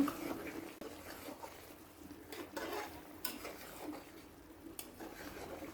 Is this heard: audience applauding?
no